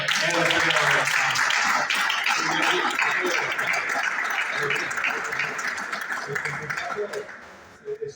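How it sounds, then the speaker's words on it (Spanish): An audience gives steady applause, a dense wash of clapping that holds for several seconds and tapers off near the end, with voices mixed in beneath it. "Yo le voy a pedir un aplauso"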